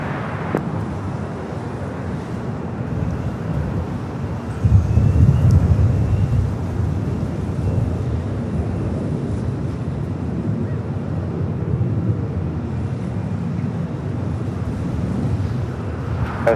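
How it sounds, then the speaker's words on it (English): Airbus A380 airliners taxiing toward the gates at LAX, a steady distant low jet rumble with a slight swell partway through, no talk. "The march of the A380s heading to the gates of Tom Bradley."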